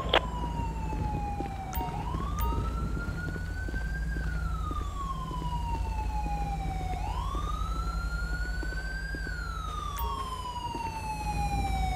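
An ambulance siren in Grand Theft Auto 5 wails loudly and steadily, its pitch rising and falling in long sweeping cycles.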